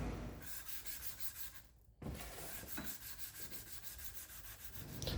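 A forged steel knife blade is hand sanded, with steady rhythmic back-and-forth rasping strokes close up, a brief pause midway, then the scraping resumes evenly and alone.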